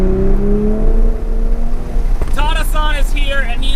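A 2020 Toyota Supra engine whirs and holds a steady drone, then a rising note with stepped harmonics as it shifts into second gear, loud and close, with someone talking over it.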